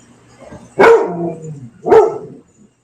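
A dog barks twice, loud and close, the two sharp barks about a second apart with a brief trailing tail after each and no other sounds around them.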